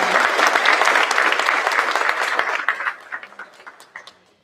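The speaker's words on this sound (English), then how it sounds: "one more round of applause for Vanessa Peña" An audience at a school board meeting gives a round of applause, loud dense clapping for about two and a half seconds before it thins into a few scattered claps and fades out.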